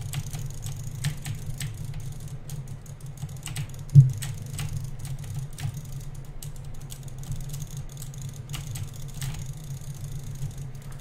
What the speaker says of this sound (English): my jitter clicking takes like a lot of focus for me